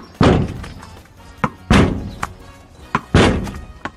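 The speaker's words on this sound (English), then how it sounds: "UK number one Daniel Evans takes on his parents'" A tennis ball strikes a garage door again and again, giving three loud hollow thuds, each followed by a smaller bounce tap, at a steady rhythm.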